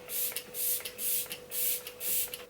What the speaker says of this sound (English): I'm just going to spritz my skin with the Glam Glow Glow Setter Makeup Setting Spray